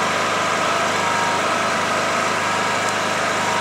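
A generator engine runs steadily under a 2 kW electrical load, a loud, constant, close mechanical drone with no change in pitch and no voices.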